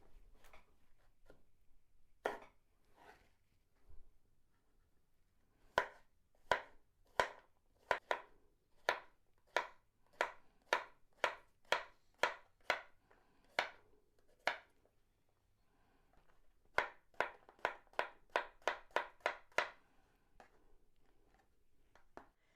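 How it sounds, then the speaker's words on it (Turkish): Rapid, sharp knife chops through zucchini on a cutting board, coming in bursts of quick strokes with brief pauses between runs, close and crisp. "Kabak keselim."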